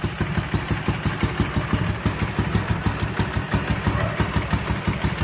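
A Ural motorcycle engine idles after sitting for 11 years, its carburetors once clogged with gas turned to lacquer. It runs with a steady, close, rhythmic pulse of firing beats throughout, with no talking.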